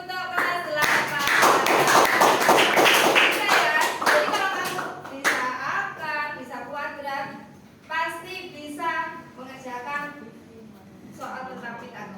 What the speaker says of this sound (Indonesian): Tepuk tangan untuk kelas 8